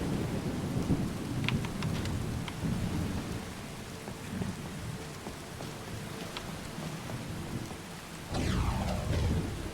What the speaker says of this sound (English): the storm out here is loud.